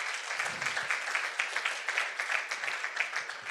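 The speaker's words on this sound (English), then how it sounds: "give him a big round of applause" A crowd at a live-streamed recruiters' event gives steady applause as a guest comes to the stage, a dense, even wash of clapping heard at a moderate distance, with a brief murmur near the start.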